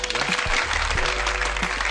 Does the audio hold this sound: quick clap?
yes